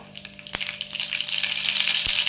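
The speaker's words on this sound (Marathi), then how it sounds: "मोहरी व्यवस्थित तडतडली की यामध्ये जिरा आणि हिंग टाकून घ्यायचंय" A spoonful of mustard seeds crackling in hot oil in a kadhai, a close, rising spatter of dense pops, with two sharp knocks against the pan.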